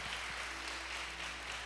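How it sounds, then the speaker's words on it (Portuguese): Church congregation clapping steadily and loudly together in a worship hall, a dense continuous wash of applause lasting throughout with no one talking over it. "Se você crê, aplauda Ele bem forte"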